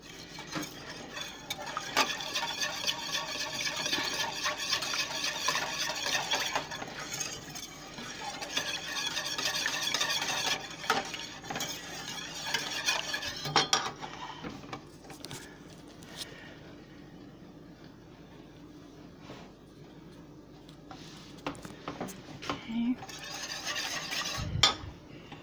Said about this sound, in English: So you're going to constantly stir this